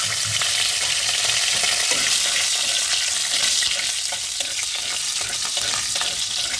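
Cinnamon, cloves and small cardamom pods crackle in hot oil while making lau chingri, a bottle gourd and prawn dish. A loud, dense sizzle runs throughout without a break, mixed with stirring.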